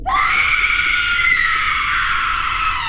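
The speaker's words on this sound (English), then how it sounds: "That blood-curdling, distorted screaming once again envelops the room." A distorted, blood-curdling creature scream for a horror story, one sustained, piercing, harsh shriek held steady for nearly three seconds, loud and close with no talking.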